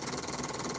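A homemade motor runs on 24 volts through a spark gap switch, making a steady, dense buzzing whir with a fast, even pulsing flutter. It is close and continuous throughout, with no talk.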